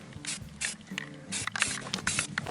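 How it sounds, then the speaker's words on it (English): Spray can of high build primer hissing in short bursts over truck wheels, several close, loud sprays with brief pauses and light handling noise. "Starting with some high build primer here."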